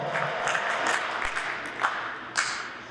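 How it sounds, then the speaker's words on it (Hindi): Faint, scattered applause from an audience welcoming a political speaker, Rashtravadi Congress Party president Ummed Singh Champawat, onto a stage in Rajasthan, with a few claps standing out above a soft, distant patter. "एक बार जोरदार तालियों से स्वागत करिए।"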